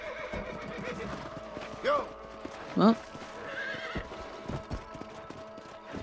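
In the Red Dead Redemption video game, a horse gives two short whinnies over steady, rhythmic clip-clopping hooves, mixed with ambient game sound while a voice briefly speaks.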